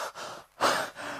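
A voice imitates a boy named Derry panting as he hurries back into a garden: a few heavy, breathy gasps in a quick uneven rhythm, close and fairly loud.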